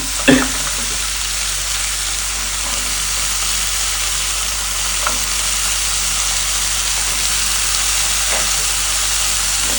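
Cubed potatoes fry in oil with spices for a vegetable dish, a loud, steady sizzling hiss with one sharp clatter at the start and a few faint stirring knocks later.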